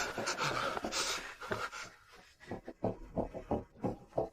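An animal pants and snuffles in short, rhythmic bursts close by, with a growling, dog-like rasp and no talking.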